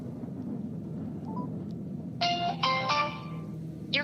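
A phone call to a telephone company store's number rings through the handset with short repeated ringback tone bursts, faint and slightly distant over a low background hum.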